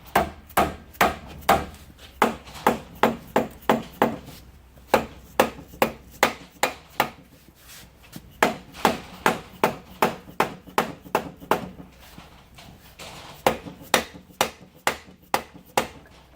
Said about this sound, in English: just give this a little whack with a soft hammer